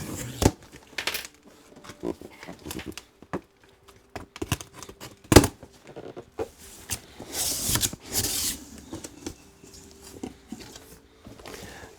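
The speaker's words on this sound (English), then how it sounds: "We'll do a quick unboxing and have a look on the inside." Packaging of an HP Z1 G9 tower desktop PC being opened, with crinkling plastic, rustling cardboard and scattered handling thumps coming in irregular close bursts, one sharp knock and a louder crinkle near the end.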